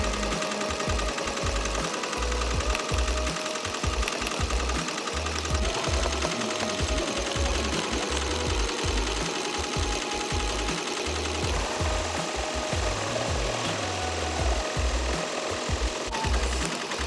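A Tajima TMBP-2 embroidery machine stitching a hat runs with a steady, rapid mechanical chatter of needle strikes, loud and continuous throughout with no talking.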